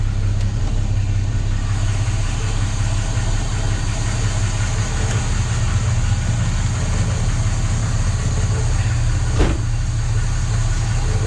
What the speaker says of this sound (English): have a quick look at the engine, listen to it